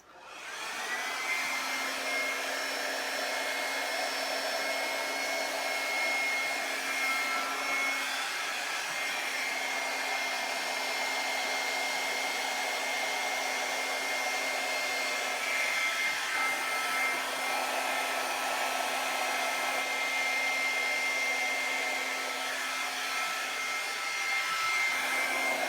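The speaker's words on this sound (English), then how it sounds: "Now we're going to take the blow dryer and we're going to blow that little spot out" A hair dryer blows steadily at close range, a continuous loud whirring hiss with a faint motor whine, running without pause the whole time.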